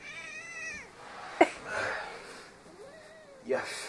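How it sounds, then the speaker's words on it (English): A kitten gives several drawn-out, close meows with rising and falling pitch, separated by pauses, with a sharp thump or rustle in between. "This is what happens when I raise kittens."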